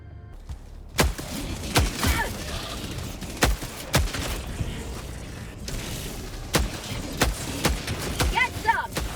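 The Scorcher weapon firing in the video game Helldivers 2: sharp, punchy shots spaced a second or two apart, each with a short echoing tail, over a low ambient rumble with a voice talking intermittently.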